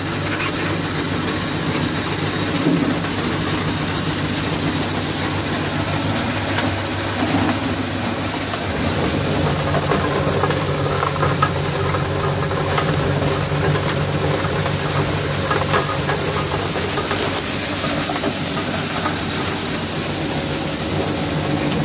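A motor-driven corn processing combine on a farm runs steadily, a loud continuous mechanical hum and grinding drone with a shift in tone partway through, holding without pause for the full stretch.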